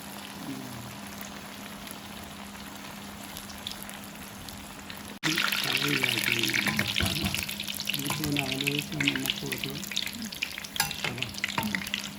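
Leftover cooked broken wheat upma roasts in a pan; a low steady sizzle grows abruptly louder and busier partway through, with crackling and scraping stirs close by.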